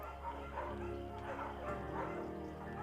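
A scruffy, undersized beagle in the video game Firewatch gives a few quiet barks and yips over a low, steady game ambience.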